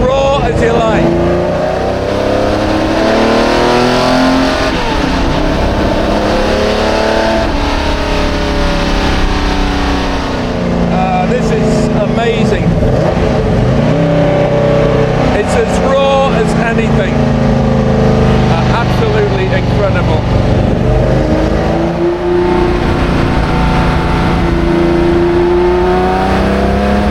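Unique Jaguar XJ13 race car, raw and loud, with a steady engine note that rises and falls as it drives, interrupted by revving and gear changes throughout; a voice talks intermittently over the engine.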